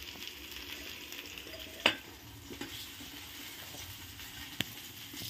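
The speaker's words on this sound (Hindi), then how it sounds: "और अब डालते हैं टमाटर, इसको भी फ्राई कर लेते हैं।" Tomatoes and green chillies frying in a pan for brinjal bharta, a continuous soft sizzle with a few sharp spatula knocks and stirs, no talking.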